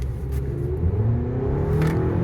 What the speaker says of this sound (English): The engine is a little noisy. It almost sounds like a really loud vacuum or garbage disposal.